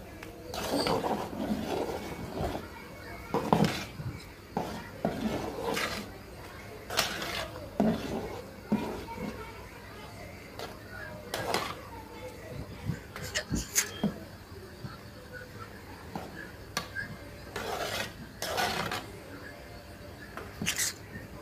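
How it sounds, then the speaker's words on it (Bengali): A spoon stirs beef tripe boiling in a pot of water with cinnamon, cardamom, bay leaves and green chilies. It makes intermittent close scraping and knocking strokes, with a voice speaking at times. "বলক চলে আসছে, নেড়ে চেড়ে দিব।"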